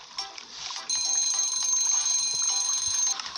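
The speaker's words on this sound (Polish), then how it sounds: "Jak już tu mi dzwoni, to zrobimy drugiego Dashera" A kitchen timer rings in the cooking game Papa's Cluckeria To Go, a bright electronic alarm that rings steadily and loudly for about two seconds, with no talk over it.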